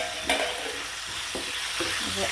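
Small curry leaves dropped into hot oil in a pan, giving a steady close sizzle with a few sharp spits and crackles as they hit the fat and are stirred.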